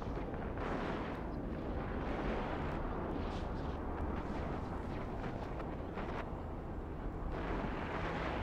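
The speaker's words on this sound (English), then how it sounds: "Look at those missiles being launched by the golem itself" Missiles launched in rapid succession by a Golem ship in EVE Online, a dense, continuous rumble of overlapping launches and booms with faint crackling bursts throughout, steady and loud with no pauses.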